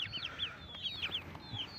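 Chickens at a roadside poultry seller's stall cluck and chirp in short, repeated high calls, several birds close by over a faint background murmur.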